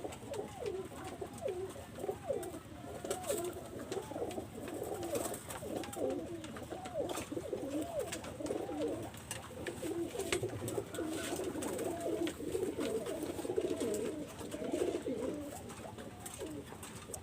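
A pair of Teddy golden pigeons coos steadily and softly, with low repeated calls going on throughout and no talking.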